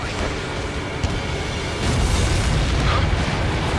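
Explosions from enemy base targets being destroyed during an air mission in the Ace Combat 7 video game, a dense rumbling roar of booms that swells louder partway through and keeps churning.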